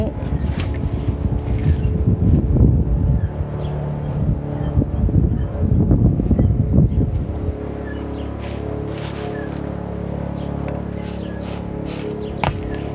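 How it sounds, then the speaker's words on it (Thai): Neighbours cut grass with a motor grass cutter nearby. The engine drone is loud and surges in the first half, then settles into a steadier, quieter hum. "เสียงคนข้างบ้านเขาตัดหญ้ากันจ้ะตัดหญ้า"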